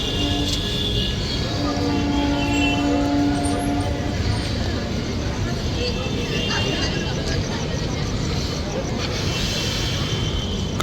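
The Kanchankanya Express departs a station for Alipurduar Junction, a continuous loud rumble of rolling coaches with a brief sustained tonal horn-like note early on and people talking nearby.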